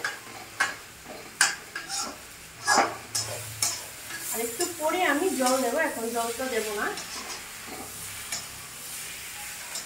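Brinjal and fish frying in oil in a pan, stirred with a spatula: steady close sizzling with sharp scraping and tapping strokes, while someone talks over it.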